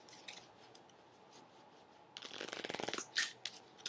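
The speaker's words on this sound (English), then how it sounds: "we're gonna take your Maccabee and shuffle them into each other, so we have all the Maccabees together" Cards from a handmade set of Maccabee pieces being shuffled together, a quiet rustle building into a dense riffle of rapid flicks, then a couple of sharper slaps, close by with no talk.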